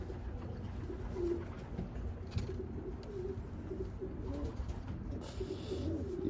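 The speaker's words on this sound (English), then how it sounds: "He is a big, beefy bird." An imported racing pigeon, a big, heavy-bodied bird, gives soft low coos in short repeated phrases, fairly faint against a quiet indoor background with light rustling.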